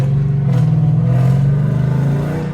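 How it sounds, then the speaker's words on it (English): A Chrysler 300 with a catless exhaust revs outside the car, a loud, close, raspy engine note climbing briefly and then holding a steady, throbbing drone. "I'm gonna give y'all some revs"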